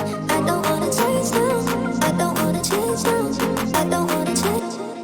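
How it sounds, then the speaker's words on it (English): Two layered claps for a drum and bass track in FL Studio, one very wide and one more mono, hitting in a steady rhythm over a full mix of synths and bass, loud and close. "I've added in 2 claps. One that's really, really wide, and the other one's it's just a bit more mono."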